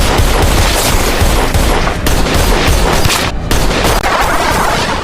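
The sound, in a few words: gunfire in a film scene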